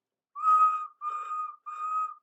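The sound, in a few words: train engine whistle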